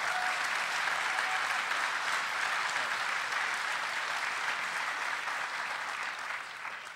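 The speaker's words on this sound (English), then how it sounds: "So a big round of applause for all" A round of applause from the audience at the ShmooCon 2014 security conference, with a broad, steady roar of many people clapping in a large hall that tapers slightly near the end.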